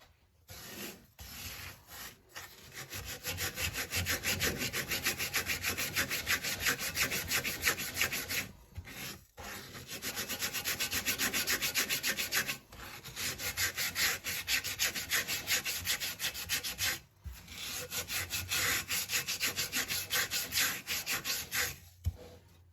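Steady abrasive scrubbing of rust from the sides of a cast iron skillet, close and loud in long rhythmic strokes broken by a few short pauses, with no talk.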